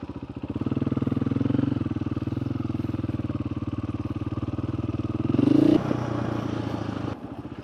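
A motorcycle idles steadily on a backcountry ride in Arizona, its engine throbbing in a close, even low pulse, then briefly revs louder before dropping back to a quieter idle near the end.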